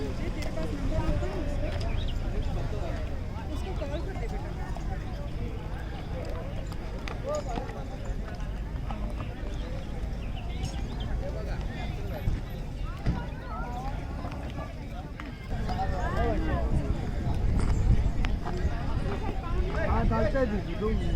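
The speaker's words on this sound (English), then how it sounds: "So we are doing horse riding." A horse's hooves clip-clop in a steady walking rhythm during a ride at Mahabaleshwar, beneath continuous voices and outdoor noise, with the pace picking up near the end.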